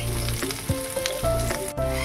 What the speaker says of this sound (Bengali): এবার আমি একটা বড় পেঁয়াজ এরকম কুচি করে নিয়েছি, এগুলো এবার হালকা ভেজে নেব